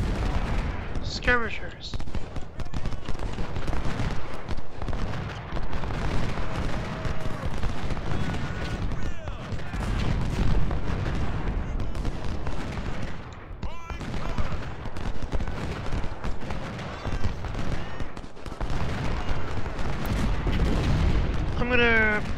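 Dense, continuous battle noise of musket volleys and booming artillery in the Civil War strategy game Ultimate General: Civil War, a sustained loud roar with someone talking intermittently over it.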